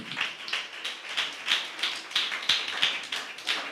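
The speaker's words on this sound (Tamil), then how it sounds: "நல்ல கைத்தட்டி ஆண்டவரை மகிமைப்படுத்துங்க" Hands clapping in steady rhythm from a church congregation at a worship service, a sharp, repeated beat of mixed claps at moderate distance with no talk over it.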